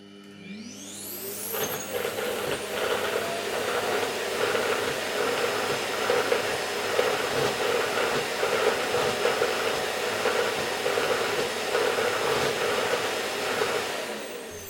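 A Roborock S7 MaxV Ultra dock empties the robot vacuum's dustbin with a loud, steady whooshing suction roar that starts abruptly and runs on for over ten seconds, fairly close.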